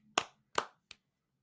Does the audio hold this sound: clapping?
yes